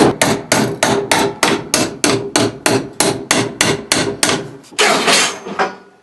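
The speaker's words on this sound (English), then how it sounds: "Put the hammer down." A hammer beats repeatedly on a sheet metal rear seat panel of a Plymouth Duster in a garage at a quick, even pace, each blow ringing briefly, ending with a scraping clatter.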